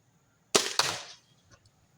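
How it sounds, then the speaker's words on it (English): A crossbow bolt is shot at a target: a sharp release snap followed quickly by a second loud impact thud, then a short fading rattle, alone in an otherwise quiet outdoor setting. "We're going to shoot the same bolt again."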